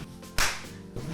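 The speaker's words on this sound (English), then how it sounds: "That was a good clap, sorry." One sharp, close hand clap in a classroom, a single crisp burst followed by quiet room tone.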